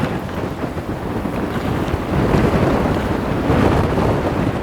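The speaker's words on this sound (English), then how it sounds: "The wind's not even strong yet." Wind gusts around a sailboat at anchor in Puerto Rico, a loud continuous rushing roar with microphone buffeting that swells midway, with water sloshing beneath it.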